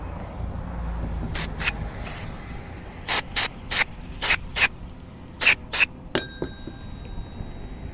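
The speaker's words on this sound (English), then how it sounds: "Just going to hit them with some carb cleaner, make sure they're clean." Short bursts of carb cleaner sprayed from an aerosol can onto centrifugal clutch parts, about a dozen sharp hissing blasts in uneven groups, close and loud, followed by faint metallic clinks.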